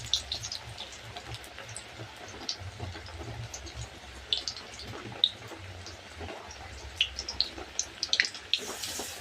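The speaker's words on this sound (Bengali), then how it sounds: "প্রচণ্ড বৃষ্টি" Heavy rain falls steadily outside a home, a dense wash of patter with scattered louder drips and splashes close by, continuing without speech.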